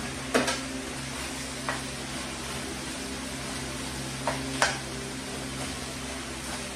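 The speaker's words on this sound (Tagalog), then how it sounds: "Lagyan ko na sibuyas para maluto na rin sibuyas." Onions frying in a pan with chicken for ginataang manok with chorizo de Bilbao: a steady low sizzle runs throughout, broken by a few sharp clinks of a utensil stirring against the pan.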